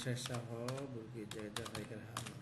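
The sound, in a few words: typing a name on a computer keyboard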